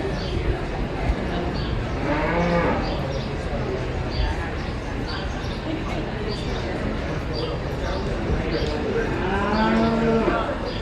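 Market steers at a county fair cattle show moo loudly, a long low call early on and another near the end, over constant crowd noise and voices.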